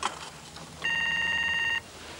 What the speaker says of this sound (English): No mad dash when the phone goes.